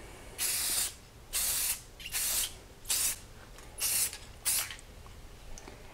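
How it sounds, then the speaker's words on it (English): Six short, even bursts of aerosol spray paint lay one light clear coat over decals on Xbox One controllers. Each hiss is close and crisp, with brief quiet gaps between passes. "Then I'm going to make sure that my paint is flowing really well, and then I'm just going to do one light coat."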